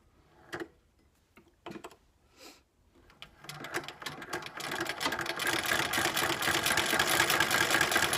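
A Weed sewing machine starts with a few separate mechanical clicks and clunks, then settles into a steady, fast rattling stitch that grows louder and stays close and continuous, with no talking.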